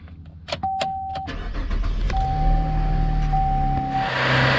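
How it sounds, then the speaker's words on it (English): A 2010-2015 Chevy Camaro with the 3.6L engine cranks and starts, preceded by clicks and a chime tone, then settles into a loud steady idle close by. "So let's go ahead and give that a shot and turn the car on."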